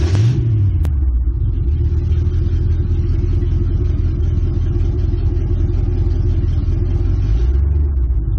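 A supercharged 1959 Studebaker Silverhawk engine rumbles loudly and steadily from inside the car, a deep continuous drone with a brief rev at the start.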